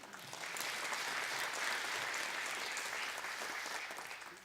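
At a church New Year revival meeting for officers, the congregation gives a round of applause, a soft, even patter of many hands that swells gently, holds, and slowly fades, heard at a modest distance with no voices over it.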